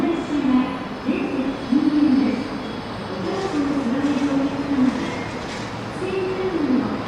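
An N700 series Shinkansen Sakura train pulls into Shin-Kobe station with a steady low rumble, while stepped tonal station sounds ring out clearly over it.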